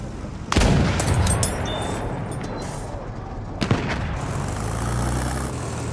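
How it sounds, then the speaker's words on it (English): Enemy machine gun fire in the Battlefield 1 desert map, heavy bursts erupting suddenly and rumbling on as a dense, loud barrage with another sharp blast later, amid battlefield din. "An enemy machine gun."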